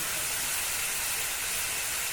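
Mustard paste and green chilies poured into a hot pan for a snake gourd dish, giving a loud, dense, continuous hiss of sizzling oil close by, with no talk over it.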